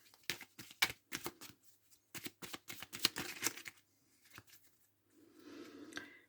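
Tarot cards are cut and handled before a reading: a series of quiet, crisp card snaps and flicks in irregular bursts, followed by a soft sliding shuffle, close and faint.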